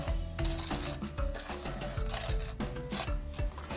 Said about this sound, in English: In a heavy skillet like this one, heat 2 cups of sugar over medium heat, stirring constantly with a wooden spoon.